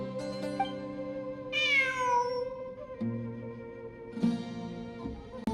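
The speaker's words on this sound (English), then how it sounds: "I'm not hearing things. It really is a cat." A cat meows in the Genshin Impact video game, one clear drawn-out meow in the middle over soft game music, followed by a few faint clicks and thumps.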